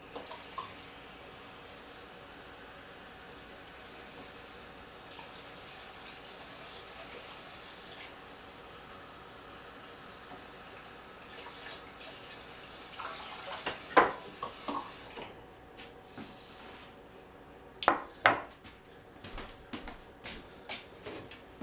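A kitchen tap runs quietly and steadily while two cups of water are measured for quick grits, ending in a few sharp knocks and clinks.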